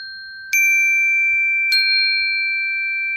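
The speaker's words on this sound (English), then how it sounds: "Can you play that chime?" A classroom chime rung twice, each strike a bright, clear ding that rings on with a long sustained tone, loud and alone against a quiet room.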